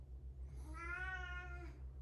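A cat gives one drawn-out meow, quiet and fairly close, over a steady low electrical hum in an indoor room.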